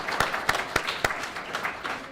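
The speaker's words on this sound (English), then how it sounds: "they both deserve a round of applause for what they have done" A burst of applause from a crowd, with a few sharper individual claps standing out in a steady, fairly close patter.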